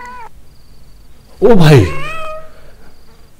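A cat in a video game lets out a loud, drawn-out meow that rises and falls, with a voice exclaiming just before it over quiet game sound.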